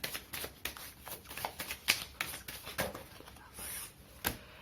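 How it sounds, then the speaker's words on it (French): A deck of oracle cards is shuffled and cut, giving a run of quick papery riffles and slaps that repeat irregularly, close and fairly quiet with no voices. "on va faire une petite coupe avec l'oracle des miroirs"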